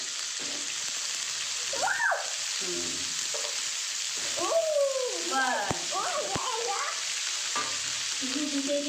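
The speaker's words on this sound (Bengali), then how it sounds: "পেঁপেগুলোকে দিয়ে দিলাম।" Pieces of papaya fry with spices in a hot pan, giving a steady close sizzle and crackle while someone talks over it.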